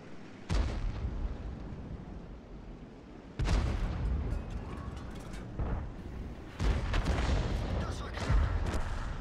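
Three heavy artillery shots from the Bat.-Châtillon 155 self-propelled gun in World of Tanks boom out several seconds apart, each a deep, loud blast trailing into low rumble, with some talk present.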